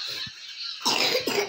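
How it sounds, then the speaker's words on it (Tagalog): A person coughs a few times, short harsh bursts close by, indoors during a children's poetry recitation. "May ubo pala kayo."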